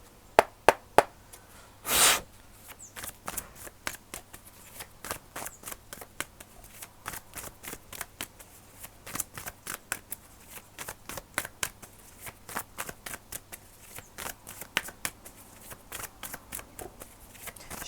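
Oracle cards are shuffled close up in a long run of quick crisp riffles and soft taps, steady and unbroken with no talking.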